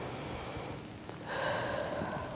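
During a Chinese stretching exercise class, a person takes a deep breath and lets it out as a long, airy exhale. The breath is close and clear over steady room noise.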